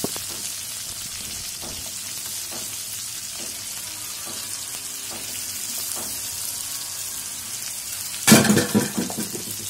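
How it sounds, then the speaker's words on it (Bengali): Onions and capsicum fry in hot oil with chili paste, a steady close sizzle throughout with light stirring taps, and a louder burst of hissing near the end. "চুলোর আঁচটা এখন কমিয়ে পেঁয়াজ এবং ক্যাপসিকামগুলো ঠিক 1 মিনিট ধরে ভেজে নিতে হবে।"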